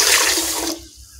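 Tap water poured over two glasses of ration rice to soak it for tomato rice, a brief close rushing splash that stops abruptly, alone.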